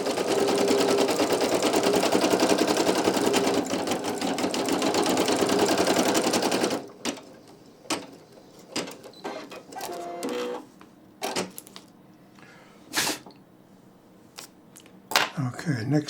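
A Brother PE800 embroidery machine stitches a towel in a loud, steady mechanical whir for several seconds, then stops, leaving scattered clicks, knocks and handling noises with some talk.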